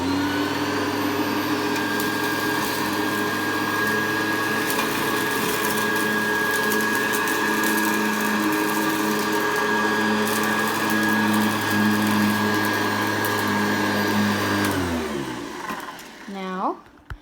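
A Hoover Convertible U4315 upright vacuum cleaner runs at a steady, loud motor whine for most of the stretch, then winds down near the end.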